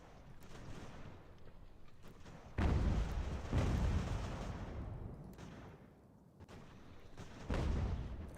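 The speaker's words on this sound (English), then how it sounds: "We've got 200 artillery firing, or 200 muskets firing at these" Massed cannon and musket fire from a battle in Ultimate General: American Revolution: a continuous rumbling barrage of distant booms and crackling volleys, with heavier blasts swelling in at intervals over several seconds.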